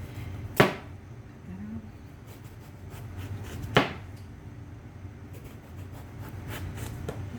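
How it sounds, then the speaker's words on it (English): A knife cuts an eggplant into slices on a board. Two sharp, separate cuts sound close by over a quiet kitchen background. "here's our eggplant, and I'm just gonna go ahead and cut them in slices"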